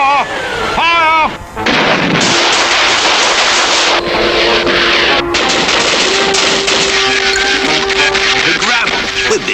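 Cartoon gunfire as police and army open fire, a loud sustained rattle of rapid shots and blasts following a brief shouted voice, dense and continuous to the end.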